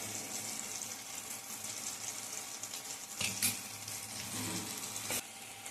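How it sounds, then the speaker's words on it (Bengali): Ground cumin and coriander frying in a pan for khichuri as a little water is added, a steady close sizzle with brief splashy bursts and stirring scrapes, no talk. "অ্যাড করছি অল্প পরিমাণে জল মশলাটাকে কষার জন্য"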